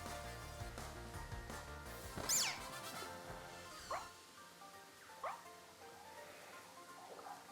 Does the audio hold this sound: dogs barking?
yes